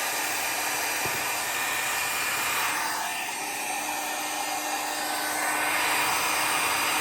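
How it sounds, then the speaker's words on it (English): A craft heat tool warms up to melt embossing powder, blowing a loud, continuous hair-dryer-like whoosh close by for the whole stretch with only a slight dip in the middle. "So I'm going to turn my heat tool on."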